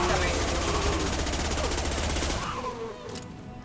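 Rapid sustained automatic gunfire in the Mass Effect video game as enemies are shot, dense and loud before tapering off near the end.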